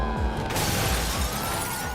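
Breakaway silicone prop glass shatters on a film set in a loud, sustained crash of dense breaking debris, heard close and without talk.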